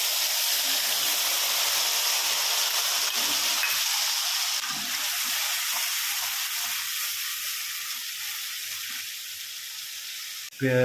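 Onion paste hits hot oil in a pan and fries with a steady, loud hiss and crackle that holds evenly and close, ending in a brief clatter.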